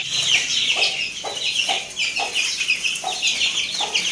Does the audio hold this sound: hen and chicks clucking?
yes